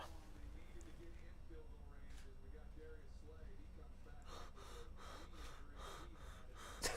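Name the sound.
person panting, breathing heavily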